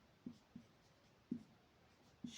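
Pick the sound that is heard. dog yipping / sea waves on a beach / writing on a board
writing on a board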